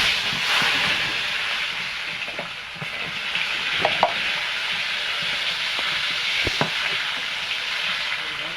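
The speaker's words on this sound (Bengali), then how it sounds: "ভেজে নিয়েছি আমি, সবগুলো এভাবে ভেজে নেব" Radish slices fry in hot oil in a pan, giving a steady close sizzle with occasional scrapes and taps as the pieces are turned over.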